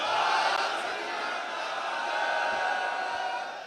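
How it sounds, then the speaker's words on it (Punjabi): A crowd at a Sikh gathering shouting the slogan Bole So Nihal in unison, one loud sustained collective cry that fades slightly over a few seconds. "ਇੱਕ ਵਾਰ ਜ਼ੋਰਦਾਰ ਤਰੀਕੇ ਨਾਲ ਨਾਰਾ ਛੱਡੋ"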